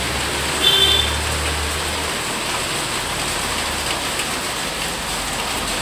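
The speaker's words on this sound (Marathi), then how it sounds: "बेकार पाऊस कमाल आहे" Steady heavy monsoon rain pours down on a road in a dense, constant hiss, with a brief engine rumble near the start.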